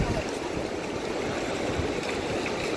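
Sea water washes around feet at the shoreline on Myrtle Beach, a continuous soft hiss and wash of shallow surf, fairly close and even throughout.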